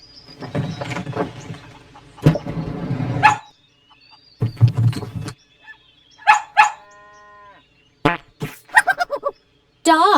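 A dog barks in a kids' animal sounds app, several short sharp yaps toward the end, following a run of other animal calls and playful sound effects.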